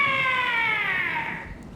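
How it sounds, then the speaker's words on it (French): A single long, drawn-out cat meow, close and loud, sliding downward in pitch and fading at the end. "Pardon, c'est mon chat."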